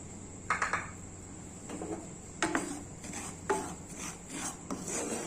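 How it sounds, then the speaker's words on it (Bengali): Semolina dry-roasting in a frying pan on a gas stove, a utensil scraping and stirring the grains in uneven strokes, close and fairly quiet, with no talking. "তো প্রথমেই আমি সুজিটাকে ভেজে নেব।"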